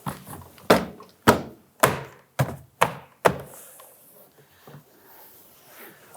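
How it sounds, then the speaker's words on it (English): Six sharp plastic snaps in a steady rhythm, close and fairly loud, as a 1999-2004 Jeep Grand Cherokee front door panel's plastic retaining clips seat, followed by a few fainter knocks and light handling noise. "bumping on our plastic retaining tabs,"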